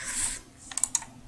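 A few quick keyboard keystrokes clicking near the mic after a brief hiss, sparse and light.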